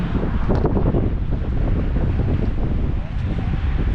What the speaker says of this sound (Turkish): Hava gerçekten de rüzgarlı baya.